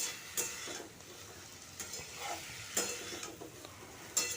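Peas being stirred into a simmering broccoli vegetable curry: soft, quiet scraping strokes of a spoon against the pan recur every second or so over a faint, steady sizzle.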